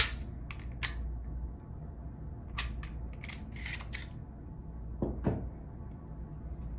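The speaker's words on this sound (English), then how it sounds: "We will make sure that the firearm does not have a magazine, is unloaded to safely remove the slide." A Glock pistol being unloaded and stripped, with a series of sharp metallic clicks and snaps from the slide and parts, some sets clustered close together, over a low steady room hum.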